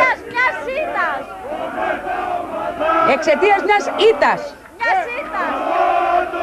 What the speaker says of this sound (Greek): Μα τα συνθήματα που ακούμε δεν έχουν καμία σχέση ούτε με την ήττα της ομάδας τους